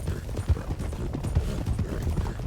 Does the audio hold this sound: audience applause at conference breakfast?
no